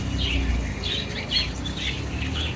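Caged birds kept at a temple in Kanchipuram give repeated shrill squawks and chirps at moderate distance over a constant busy background hum.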